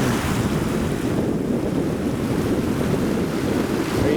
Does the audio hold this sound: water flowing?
yes